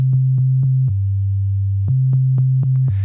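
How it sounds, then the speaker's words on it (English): A steady, pure electronic sine wave tone from the Vital synthesizer holds throughout, broken by soft clicks as the pitch steps down and then back up. "you'll see that immediately what pops up is a sine wave."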